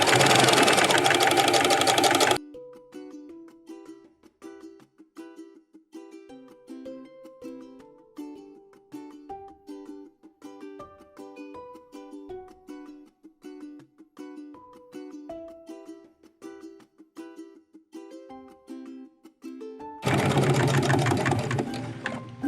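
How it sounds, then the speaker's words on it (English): A sewing machine stitches close to the edge of a tote bag to close an opening, running in a long, rhythmic series of rapid needle clicks, with louder noise at the start and end. "Sewing real close to the edge to close that hole up."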